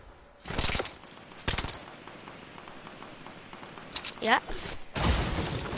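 Gunfire rattles out in Fortnite, several separate bursts of rapid shots at close range spaced across a few seconds, with a player's voice speaking between them.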